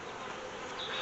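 Honeybees swarm and hum around a big double brood box hive at an apiary, a dense steady close buzz with no voices.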